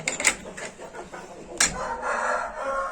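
Chickens in a coop cluck and call close by, with several sharp bursts early on and a rising, sustained cackle toward the end.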